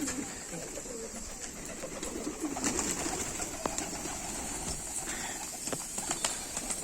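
Pigeons coo softly inside a coop holding about forty pairs, a steady low murmur with scattered flutters and light knocks.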